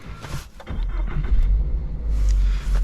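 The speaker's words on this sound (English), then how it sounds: "let me start the car" A 2023 Toyota GR86 sports car engine cranks and catches, settling into a loud, deep rumbling idle with a low growl that swells slightly near the end.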